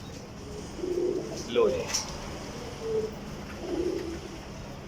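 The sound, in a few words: pigeons cooing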